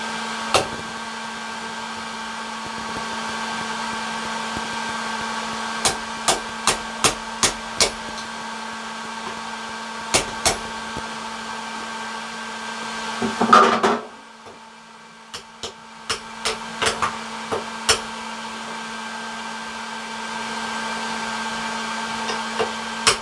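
A forge heats metal for a grappling hook, giving a steady blower-like roar with a constant hum, broken by sharp metallic taps and a brief louder burst before the roar settles again.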